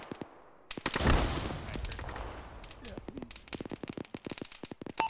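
A frag grenade bursts in a loud, booming blast at a bunker in the military sim Arma, followed by crackling rapid gunfire shots, some near and some more distant, over a few seconds.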